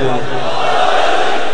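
A crowd of mourners at a Shia majlis during Muharram roars back in answer to a slogan chant, a loud, dense wall of massed voices that runs unbroken for its whole length.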